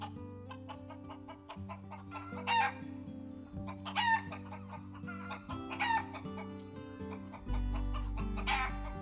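A Pacific jungle fowl rooster in Hawaii crows loudly and close by, four separate calls spaced a couple of seconds apart, with clucking in between and a steady droning hum running beneath.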